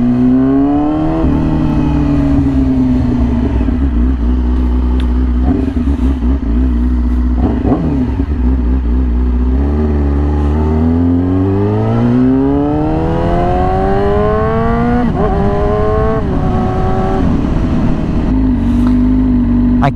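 A Yamaha R6 sport bike fitted with a very loud aftermarket exhaust runs steadily near the listener, its deep engine note rising and falling through several revs over a continuous idle.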